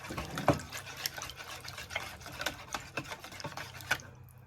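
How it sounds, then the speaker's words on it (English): Egg being stirred into cinnamon roll batter in a bowl, a run of close, quick wet tapping and clacking strokes from a utensil, ending abruptly. "Just stir everything thoroughly."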